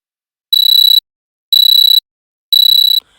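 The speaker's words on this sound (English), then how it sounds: "when we reach the time which is it here showing 1925, then when we reach it, the alarm gets automatically triggered." A JavaScript web clock's alarm goes off as three loud, identical electronic beeping bursts, each about half a second long and evenly spaced by short silences.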